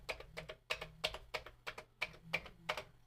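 Keys clack on a Commodore VIC-20 computer keyboard in a quick, uneven run of close, crisp taps, fairly quiet, with no talking over them.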